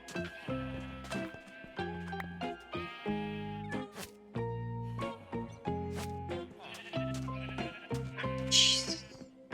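Blocky Minecraft sheep bleat over and over in a steady run of nasal cries, some overlapping, with a voice talking now and then underneath.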